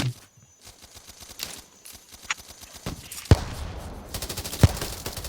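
Rapid bursts of video-game gunfire, a rattling automatic stream with a few sharper, louder shots standing out near the end.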